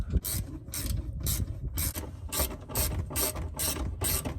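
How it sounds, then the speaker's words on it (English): A ratcheting wrench clicks in about nine quick, evenly spaced bursts while tightening the fuel tank straps on a Jeep Cherokee XJ, close and with no talking. "Thank God for ratcheting wrenches."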